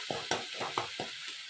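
A spice paste with half a spoon of turmeric and a little water fries in a pan while being stirred, with repeated close scraping strokes over a soft steady sizzle.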